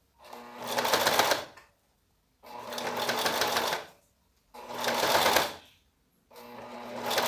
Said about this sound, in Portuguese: Vou costurando devagar.